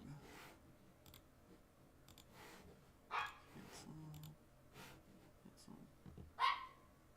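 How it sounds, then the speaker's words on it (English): A small excited dog barking and yipping in another room, a few short faint barks spaced several seconds apart over quiet background hum. "Sorry if you can hear my dog in the background."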